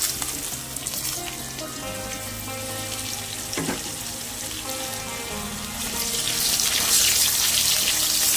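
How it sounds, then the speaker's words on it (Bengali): Potato pieces fry in hot oil with cumin seeds, a steady close sizzle filling the pan throughout and swelling louder toward the end, with no voices. "এই যে আলু কটা পয়লা ভেজে নেবো"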